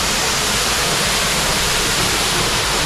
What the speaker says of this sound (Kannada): ವಾಟರ್ಫಾಲ್ ಇದೆ ಮೋಡದ ಮೇಲೆ